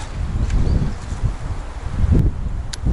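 Strong wind roars low and steady around a taiga cabin roof, with gusts swelling and rustling, rattling bursts of loose metal sheets near the end.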